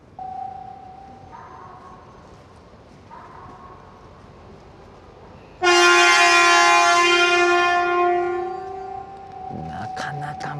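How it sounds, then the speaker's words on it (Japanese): A loud, bright horn from an H5 series Shinkansen train sounds in one long sustained blast close by as it enters a depot, after a low steady hum with faint tones, then fades into rumbling machinery. "なかなか間近でこの汽笛は聞けません。"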